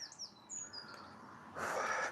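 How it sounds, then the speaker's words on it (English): Birds sing in Calder Glen Country Park, several short chirps and whistled phrases from moderately near, followed by a burst of rustling broadband noise. "Can you hear these birds singing?"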